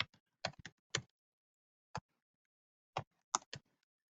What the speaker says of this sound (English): type in my email address